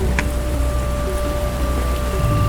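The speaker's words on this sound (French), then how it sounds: "Voilà, il pleut." Rain falls outdoors in a wild natural setting, a steady, dense hiss of drops on surfaces that fills the short stretch without pause.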